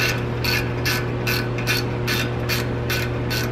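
A ratchet loosens an exhaust clamp on a Ram Rebel truck. It makes a rhythmic run of about nine sharp clicking strokes, close and clear, over a steady low hum.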